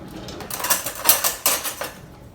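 A utensil stirs black beans and fajita seasoning in a pan, giving several close metallic scrapes and clinks in an uneven rhythm, loud at first and then fading.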